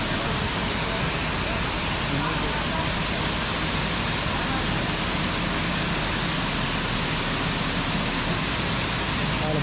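The waterfall at Uluppuni in Vagamon, Kerala roars as a steady, loud, dense wash of rushing water that fills the whole stretch without a break, heard from very close.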